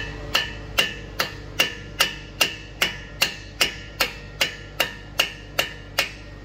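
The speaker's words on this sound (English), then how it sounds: "Then I'm going to hit it with a hammer so we're able to loosen up that axle spine." Sharp metallic hammer blows on the axle nut of a 2011 Toyota Sienna ring out one after another at an even, steady pace, about a dozen strikes, loud and close with no talking.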